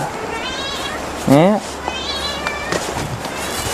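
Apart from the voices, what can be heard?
cat meowing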